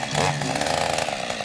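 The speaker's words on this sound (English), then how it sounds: "We love to fire up the old chainsaw and take care of things ourselves." An old chainsaw runs steadily at close range, its engine buzzing loud and continuous after a brief rev at the start, with no other sound over it.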